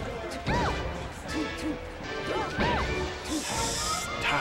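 Sharp hits from up smash attacks in Super Smash Bros. Melee at a local tournament, several quick impacts with whooshes over crowd chatter and game sounds.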